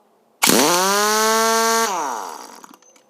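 VEVOR one-inch pneumatic impact wrench runs free for about a second and a half, a loud close harmonic whine that spins up sharply, holds steady, then winds down as the air is released, with no talking.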